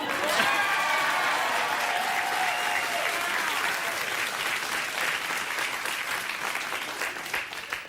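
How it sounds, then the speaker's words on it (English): A late-night talk show studio audience claps loudly for guests introduced from Canada, sustained dense applause that gradually thins toward the end. "they were clapping for Steve and Courtney, not for the entire country of Canada"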